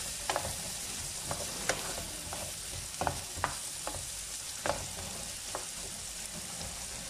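Chopped onion and pumpkin frying together in a pan for an Italian-style pumpkin rice, giving a steady soft sizzle broken by sharp clicks and scrapes of a spoon stirring at an uneven pace.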